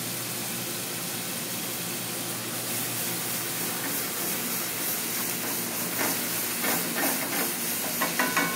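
A pot of tomato sauce with hominy added steams and sizzles in a steady, dense hiss that holds throughout, with faint bubbling pops growing toward the end.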